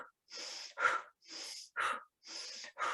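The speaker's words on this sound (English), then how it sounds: "just close your eyes and do very quick breathing technique." Rapid, forceful breaths of a fire-breathing exercise, done with eyes closed: six quick bursts, alternating hissy inhales and sharper exhales, close and fairly loud with brief pauses between, no talking.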